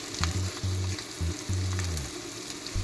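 Tomatoes frying in a hot oiled pan for egg sambar give a steady close sizzle, with low hum and a few scraping stirs throughout, and no talking.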